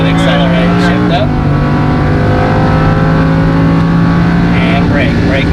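Race car engine accelerating hard on track with an upshift gear change, loud and close throughout, with instructor talk over it; Porsche 991 GT3, Ferrari 488 GTB or Acura NSX.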